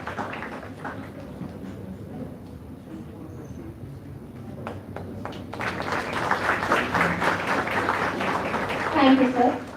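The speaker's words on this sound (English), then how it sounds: "A big round of applause for all the winners and participants." An audience at a legal event on the Indian judiciary applauds award winners. A voice speaks over a light patter at first, then the clapping swells into a dense, loud burst that builds toward the end.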